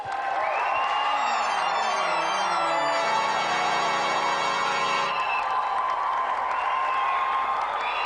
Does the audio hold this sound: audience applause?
yes